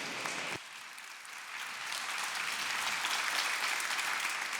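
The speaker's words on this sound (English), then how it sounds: "An applause to Kati and Anto." Audience applause fills a conference hall on integration, a sustained broadband clapping that swells after a brief lull and stays loud and steady to the end, with no voices over it.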